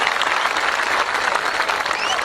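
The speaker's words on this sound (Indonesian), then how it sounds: "Tepuk tangan untuk Mas Andri" An audience at an Islamic religious gathering in Ungaran, Semarang claps in a dense, sustained burst of applause that stays loud and even throughout, with crowd murmur mixed in.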